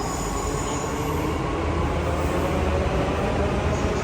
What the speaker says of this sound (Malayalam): മെട്രോ അതിവിടുന്ന് പോയി.